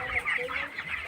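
Twenty-one-day-old broiler chickens in a poultry shed cluck continuously as they eat and drink, a busy overlapping chorus of soft, repeated calls close by.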